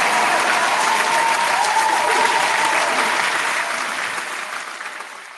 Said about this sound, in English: Round of applause for the chat